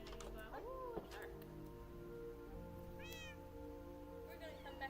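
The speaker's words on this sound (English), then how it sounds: "Look at the kitty laying at me." Cat meowing in the Minecraft video game, with two or three short rising-and-falling meows spaced apart over faint background noise and quiet chirps.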